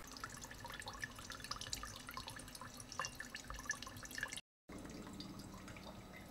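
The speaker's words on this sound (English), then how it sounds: "Pour it into the still, and then you can squeeze the bag out inside the still itself to make sure you get all the liquid" Whisky wash squeezed by hand from a grain bag into a still, faint irregular drips and trickles of liquid falling, quiet and close, broken by a brief silence near the end.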